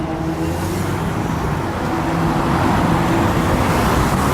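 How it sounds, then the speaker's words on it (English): An MTA RTS bus passes on an Eastern Queens street, a loud close engine and tyre roar that builds steadily over a few seconds amid traffic. "One of the RTS buses here."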